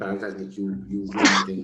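A sharp sneeze bursts out partway through a man's ongoing conversational speech, loud and close, cutting across his talking.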